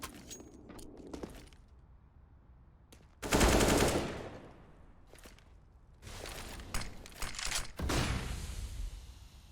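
Gunfire from the Counter-Strike video game during a competitive esports match, with short separate shots and then heavier bursts of rapid automatic fire at a moderate level, with clicking and movement sounds between them and no commentary.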